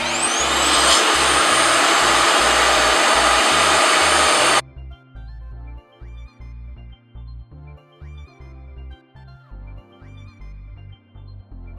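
A Rev Air hair dryer runs on its highest suction and heat, a loud steady whooshing roar for several seconds before it cuts off, leaving a quieter low rhythmic hum.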